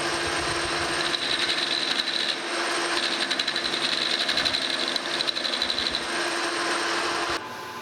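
A metal lathe chamfers a newly machined double T-nut with a threading tool, giving a steady close machining whir with faint ticking and scraping that runs throughout and drops off slightly near the end.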